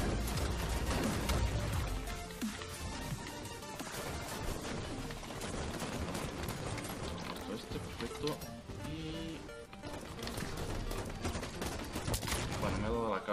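Grenade blasts and bursts of gunfire erupt in a Halo 5: Guardians multiplayer match, with rapid shots and booming explosions layered densely over a player talking throughout.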